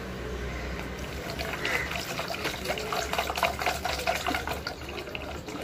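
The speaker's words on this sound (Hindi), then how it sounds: "पानी से बाउल को भर देना होगा।" Water runs into a bowl in a steady trickling, splashing fill, close and moderate in level, with a voice speaking over it.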